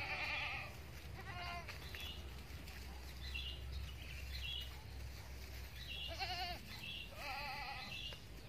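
Boer cross goats bleat in a farm setting: several wavering, nasal bleats from a few animals, some nearer and some farther, spread over a steady low background rumble.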